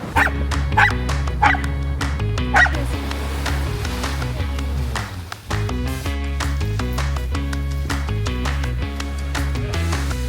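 Dog-like yelps and whines sound over loud, continuous music, the sounds recurring through the stretch rather than standing out clearly.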